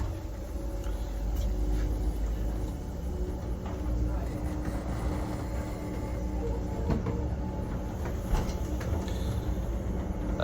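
The Midland Pullman train moving off from Hereford, heard from inside the carriage as a steady low rumble with faint clanks and rail noise throughout.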